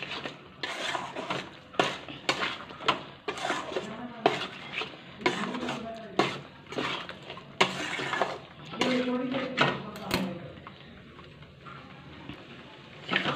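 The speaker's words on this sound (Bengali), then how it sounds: "বারোটা কাজু বাদাম বাটা দিয়ে দিতে হবে ভালো করে মিক্স করে নিতে হবে" A spoon scrapes and clatters against a cooking pot while mutton korma with cashew paste is mixed, giving repeated close, uneven strokes with metallic knocks throughout.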